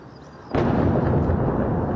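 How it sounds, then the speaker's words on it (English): Explosion from a strike in Beirut, Lebanon: a sudden loud blast bursts out of low background noise and rolls on in a heavy, sustained rumble. "there have been explosions in Beirut, Lebanon's capital city, this morning"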